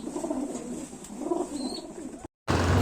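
Pigeons coo close by in soft, rolling, overlapping calls that continue throughout, with one brief cut to silence near the end before the sound resumes.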